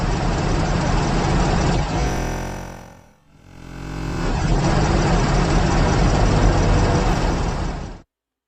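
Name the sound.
tractor engine running in the background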